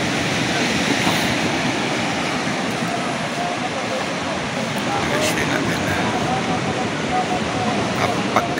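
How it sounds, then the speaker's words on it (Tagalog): Strong sea waves rolling in at low tide along a shore, a loud continuous roar of surf and wash that stays steady throughout with no break. "Pagkalakas ng alon eh."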